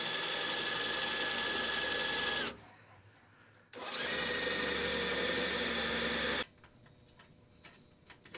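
A power tool runs in two sustained bursts of a few seconds each while a mount is being drilled and bolted into a mini truck frame, loud and close, with quieter tapping and handling noises in the pauses between them.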